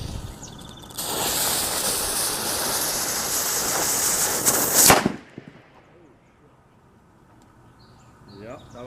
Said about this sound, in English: So there we got our nice little explosion in the can.